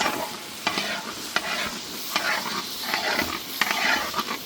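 Brinjal frying in oil while being stirred in a pan: a continuous close sizzle broken by several sharp scraping strokes of a spatula, with no voices.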